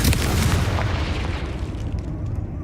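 A Confringo fire spell explodes in the Hogwarts Legacy video game, landing as one loud, close, rumbling blast that fades over a couple of seconds.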